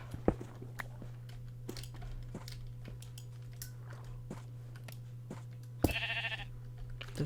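A sheep bleats once in Minecraft, loud and close, over a steady electrical hum and scattered clicks and crunching sounds.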